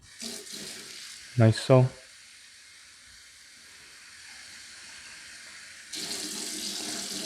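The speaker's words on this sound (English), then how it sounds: "once you have the filters out, you just run through the cold water until the water is clean" Cold tap water runs as a steady hiss while Dyson vacuum filters are rinsed, swelling louder near the end, with a brief spoken remark early on.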